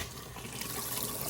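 A sink tap in a self-converted VW T6 Transporter camper van runs a steady, faint stream of water, close by and without talk.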